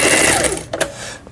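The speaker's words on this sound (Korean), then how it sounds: "이거 특수 바느질도 해봐야 되네" A Janome 419S household sewing machine runs briefly and loudly up close, sewing a triple zigzag special stitch in a quick whirring burst.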